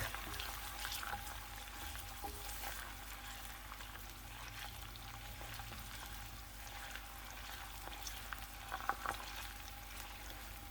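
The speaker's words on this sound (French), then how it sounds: "j'ai mis l'oignon et l'ail à frire" Onion and garlic fry in a pan for a quick Tunisian sauce with cumin, salt, pepper and curry, giving a faint, steady sizzle that carries on evenly with a few small pops and no talking.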